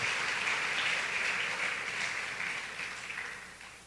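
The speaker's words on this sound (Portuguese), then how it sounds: "Quantos podem dar um aplauso ao Senhor, porque Ele está trabalhando no nosso meio?" A church congregation applauds, a dense wash of many hands clapping together at moderate distance, steady at first and then gradually thinning and fading out.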